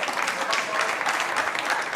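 Crowd at the 2023 World Cup of Pool applauding and cheering a potted nine ball, a steady dense wash of clapping throughout.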